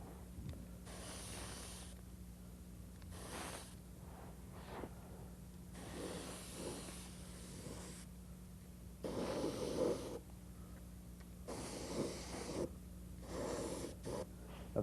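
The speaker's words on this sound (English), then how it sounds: "Just spraying the effect in." An airbrush sprays paint through a stencil onto a custom graphics piece, coming as repeated hissing bursts of about a second each, separated by short pauses, over a steady low hum.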